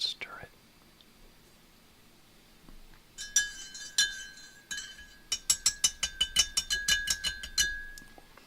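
A spoon stirring coffee in a cup, clinking rapidly against the sides in a run of bright rhythmic taps that grow faster toward the end, close and clear after a quiet stretch.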